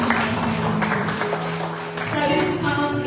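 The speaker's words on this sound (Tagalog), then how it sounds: "Minsan pa po malakas na palakpak para sa ating buhay Diyos." A church congregation at a Sunday praise and worship service claps steadily in sustained applause, with voices and shouts mixed into the din.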